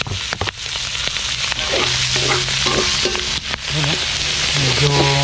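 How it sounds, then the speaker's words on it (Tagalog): Onion and garlic dropped into hot oil with adobo, cooked outdoors, giving a loud close sizzle and crackle with clacks of the ladle and some faint squeaky tones. "Pwede na natin ilagay yung sibuyas bawang."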